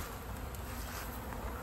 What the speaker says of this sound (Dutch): Er is superveel bijen nog.